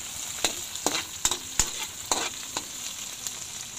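Squid stirred and frying in a pan with tomato and onion: a soft sizzle under repeated scraping, clacking strokes of a spatula, loosely rhythmic and close.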